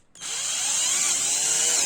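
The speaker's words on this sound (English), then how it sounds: "Drill rivet holes." Power drill boring rivet holes into a Kydex knife sheath, a loud close whine that kicks in after a brief quiet start and holds steady, rising slightly as it cuts.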